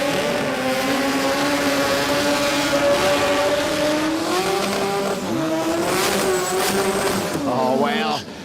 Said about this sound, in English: I love the intensity of the skid.